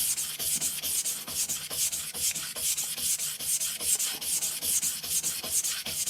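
A steel blade is rubbed back and forth across a sintered diamond whetstone, its back being flattened in steady, even strokes about twice per second, each one a close, gritty, rasping scrape with no voices.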